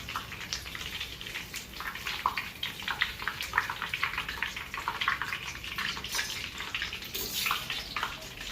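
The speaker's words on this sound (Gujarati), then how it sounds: "થોડુંક ઝારા ઉપર પાણી નાખી દેવાનું એટલે હોલ હોય ખુલ્લા થઈ જાય." Water poured over a perforated jhara ladle used for pressing Ratlami sev gives a steady, fairly faint splashing hiss that runs unbroken for the whole stretch, with no voices.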